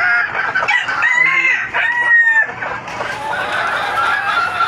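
A flock of about eighty adult laying hens clucks and crows steadily and close by, with overlapping calls in a busy, unbroken stream.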